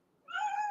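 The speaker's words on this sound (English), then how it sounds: "That's my cat, I'm sorry." A house cat gives a single short meow that starts abruptly, fairly faint and close, with nothing else around it.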